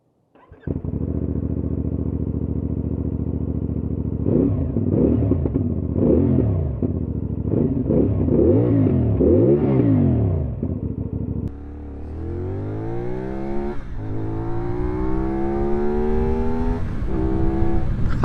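CFMOTO 450NK motorcycle engine idling close up, then revved repeatedly in a series of sharp rising and falling blips, before the bike pulls away and accelerates through several gear changes in steady climbing sweeps, with no talk.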